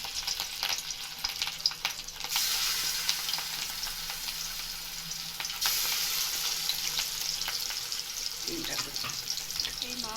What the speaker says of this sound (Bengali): দেখুন তেল গরম হয়ে গেছে, মা এবারে মাছগুলোকে ছেড়ে দেবে।